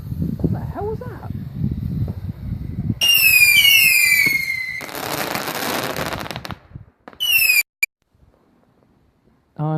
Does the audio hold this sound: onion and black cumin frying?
no